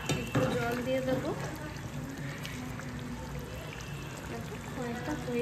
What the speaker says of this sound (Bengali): মাংসটা এবার একটু সেদ্ধ হওয়ার জন্য একটু জল দিয়ে দেবো।